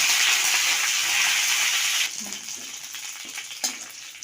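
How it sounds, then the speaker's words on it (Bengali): Mustard seeds, dried red chilies and curry leaves hit hot oil with a loud, bright sizzle that fills the first two seconds, then drops to a softer crackle with a few sharp pops. "তেলের উপর দিয়ে দেবো সর্ষে শুকনো লঙ্কা, দিলাম কারি পাতা"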